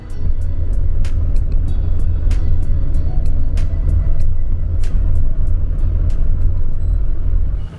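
A pickup truck drives along while towing a trailer meant for moving a 10x26 shed. A loud, steady road rumble runs throughout, and rattling clanks from the load and hitch break through at irregular intervals.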